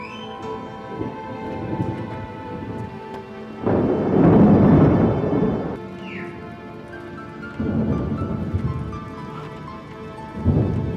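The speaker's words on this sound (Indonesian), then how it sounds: "Hujan lagi." Rain falls steadily with bursts of heavier rumbling thunder arriving in several long waves, loud and close, with no voices over it.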